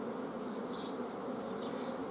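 Honey bees buzz at a beehive in an apiary. A dense, steady, close drone runs throughout with no pauses and no voices.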